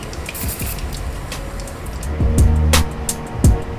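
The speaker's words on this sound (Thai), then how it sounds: "ฉีดสเปรย์น้ำแร่นิดหน่อย" A mineral water facial mist spray is spritzed during a makeup routine, giving short airy hissing bursts that stand out loud and close against quiet room noise.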